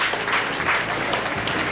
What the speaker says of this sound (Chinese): 给这些人掌声鼓励。